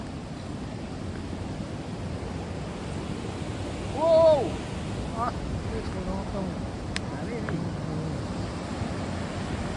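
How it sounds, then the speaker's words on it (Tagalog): A waterfall near Annecy gives a steady, broad rushing roar from start to finish, and a voice briefly exclaims midway through. "Ay narinig nyo ang lakas-lakas ng tubig, no?"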